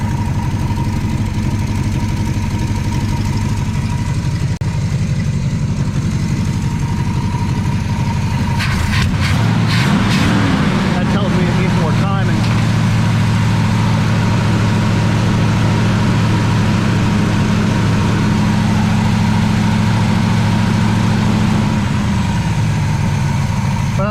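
An old car engine that has sat unused a long time idles steadily and loudly up close, with a rough low rumble and light ticking, and briefly rises and settles midway through.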